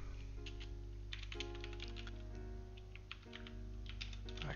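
Steady clicking of keys on a computer keyboard, quick irregular bursts of typing close by and fairly quiet, with no talking over it.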